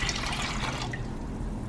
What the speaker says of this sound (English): I'm gonna go ahead and pour it into the pot